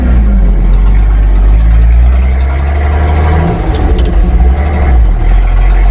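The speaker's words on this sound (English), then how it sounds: "This is what a straight pipe 6-cylinder feels like." A Ford 300 straight-six running through a straight-pipe exhaust drones loud and steady with a deep, throaty rumble, its note dipping briefly midway before picking up again, with no talk over it.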